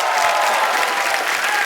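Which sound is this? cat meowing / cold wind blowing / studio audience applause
studio audience applause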